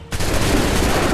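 A musket volley erupts in Assassin's Creed III at the 1775 Lexington and Concord battle, a sudden loud crackling burst of many shots fired together, close and dense, sustaining briefly after the opening crack.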